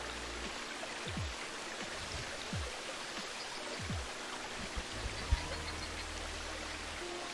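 A waterfall flows in the background as a soft, steady wash of broadband rushing water, fairly quiet and continuous, with a few faint low thumps but no talking.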